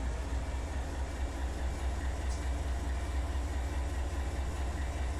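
Freight trains roll through Run 8 Train Simulator on the BNSF Fresno to Bakersfield line, a steady, unbroken low rumble of engines and wagons that stays even throughout with no talking.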